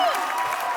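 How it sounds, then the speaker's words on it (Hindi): Steady applause from a studio audience, a dense wash of clapping throughout the brief moment. "जोरदार तालियां"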